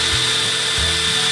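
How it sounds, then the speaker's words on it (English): Power drill boring into the aluminum steering bracket of a 1975 40 hp Evinrude outboard, a loud steady whine with two brief drops in pitch as the bit bites, close up and with no talk. "Now I'm cutting aluminum."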